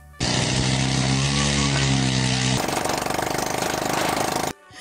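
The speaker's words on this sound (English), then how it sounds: "His homemade helicopter starts up like he's trying to crack the earth in half" A homemade helicopter engine starts up with a loud, harsh mechanical roar, then settles into a steady rapid clatter that runs close and continuous for several seconds before cutting off abruptly.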